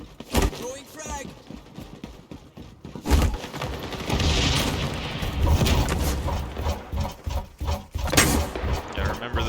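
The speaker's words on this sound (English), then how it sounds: "Throwing frag." A frag grenade detonates in a first-person shooter, a heavy boom followed by a rumbling roar, amid dense gunfire and crashing impacts, with players talking over the action.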